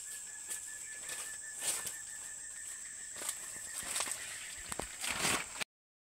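Birds flapping their wings, with soft fluttering bursts and light patter over a steady background hum.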